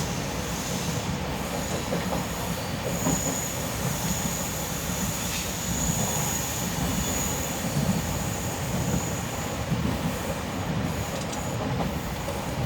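Heard from inside a sleeper class coach, the 12284 Nizamuddin–Ernakulam Duronto Express runs with a steady loud rumble and rattle, with faint wheel squeal and clatter over the tracks throughout.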